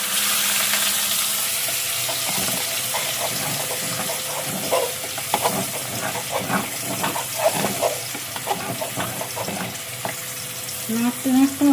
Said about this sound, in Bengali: এই গোবিন্দভোগ চালের খিচুড়ি এত নাড়তে হয়।